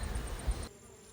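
Honey bees at an open hive with frames full of stores give off a close, steady buzzing drone that drops suddenly partway through.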